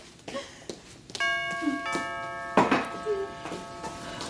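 A doorbell chimes inside a house during a comedic TV drama scene, sounding as a sustained two-tone ding-dong with ringing overtones, followed by a few brief bumps and faint voices in the background.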